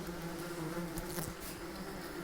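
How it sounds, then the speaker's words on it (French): Wasps swarming around their nest, several hundred strong, give a steady, close insect buzz that drones on without a break. "Un nid, il doit y avoir 500-600 guêpes."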